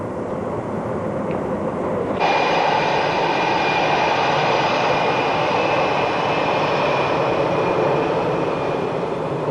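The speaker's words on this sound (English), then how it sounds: "Once the aircraft has started its taxi, the strip is moved to overlap the mission column in the operations side of the status board." Fighter jet starting its taxi at a Canadian Forces air base: a loud, steady jet engine roar with a broad rushing hiss that swells and brightens about two seconds in, then holds constant with no talking.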